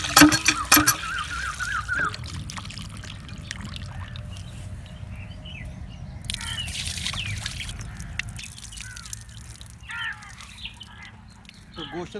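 Water splashes and trickles steadily for several seconds as chicken meat is washed, with some clattering at the start and faint background noise throughout.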